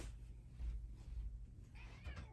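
A pet cat gives a short, faint meow near the end, set against a low indoor background hum.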